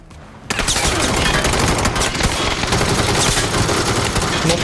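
Sustained automatic gunfire in the video game PUBG, a dense, loud burst of rapid shots starting abruptly after a brief quiet moment and continuing without pause, with faint voices beneath.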